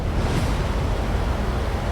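Strong rushing water at the Belapur waterfall on a monsoon trek, a loud, unbroken roar that fills the whole clip with no voices.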